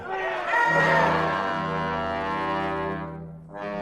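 An agitated crowd near a spaceship roars and shouts in a dense, sustained wall of voices, a radio-drama sound effect that swells early and then drops off abruptly near the end.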